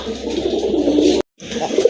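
Pigeons cooing close by in a low, continuous murmur, broken by a short moment of silence before the cooing resumes.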